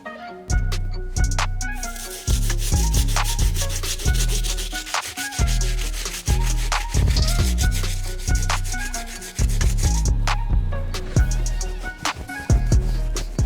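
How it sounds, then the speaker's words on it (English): A stiff bristle brush scrubs the rubber outsole of an Air Yeezy 1 sneaker in quick, repeated rasping strokes, close and loud, with no talking. "The last brush we're gonna be using is our stiff bristle brush to take care of this outsole."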